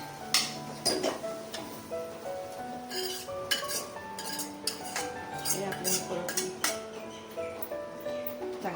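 Cooked radish paratha filling scraped from a pan onto a plate, a run of metal spoon clinks and scrapes against cookware in an uneven rhythm, close and fairly loud, with a faint leftover sizzle.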